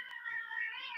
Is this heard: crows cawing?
no